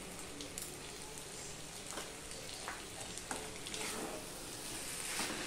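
Potol (pointed gourd) sizzles in a pan as it is stirred with Kashmiri chili powder, making a constant soft frying hiss with faint scraping stirs, quiet and steady, with no voices.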